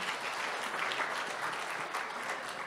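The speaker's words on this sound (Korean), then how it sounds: "다시 한번 큰 박수 부탁드립니다" Sustained applause from an audience at a Korean public forum in Yeongdeungpo district, a dense, even patter of many hands clapping continuously for a few seconds without voices.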